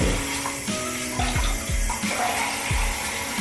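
Hot water running from a sink tap into a basin, a steady rushing splash with soft gurgles and low knocks beneath it, close and continuous throughout.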